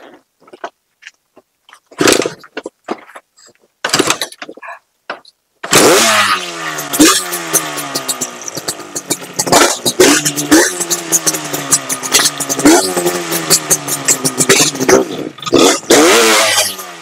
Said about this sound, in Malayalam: Like you guys saw, the bike started and I took it for a 50 meter spin.